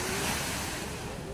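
Surf rolls onto a crowded seaside beach as a continuous wash of breaking waves, with steady wind rumble across the microphone and no voices standing out.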